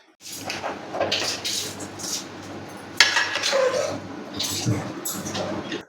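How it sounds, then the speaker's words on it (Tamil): Steady sizzling and crackling of onions tempering in hot oil for fish curry, with occasional clinks of a utensil against the pan, close by. "வெங்காயம் போட்டு தாளிக்க போகிறோம்"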